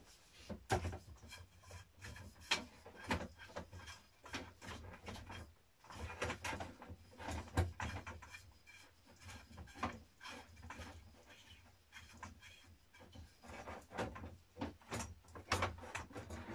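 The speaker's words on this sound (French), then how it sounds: "Je suis en train de me demander si ça se dévisse vraiment ou si je tourne dans le vide." A crimped metal cap is twisted by hand to unscrew it, making irregular rubbing and grinding scrapes in repeated short bursts, close and fairly quiet.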